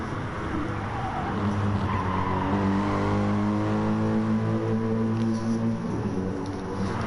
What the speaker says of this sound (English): As that V8 sings in the wind there.